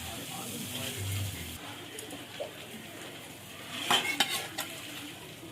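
Cauliflower is stirred into a potato spice mix in a pan over low heat, with soft scraping and clinks of a utensil against the pan and a faint sizzle throughout.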